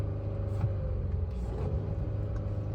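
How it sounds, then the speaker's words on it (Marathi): MG Astor car engine running while stationary, a steady low rumble at idle with slight rises in pitch as it revs, heard close and continuous with no talking. "ओके गाडी स्टार्ट केलेली आहे आर पी मीटर बघू शकता आर पी मीटर अशा प्रकारे वाढतो"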